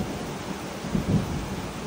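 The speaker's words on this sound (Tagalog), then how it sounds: "Ay, sa lakas ng ulan. Nakakaloka. Ay! Kidlat ang kidlat." Thunder rumbles low and close through heavy rain during a storm at a farm, with a brief swell of deeper rumble midway over the constant hiss of rainfall.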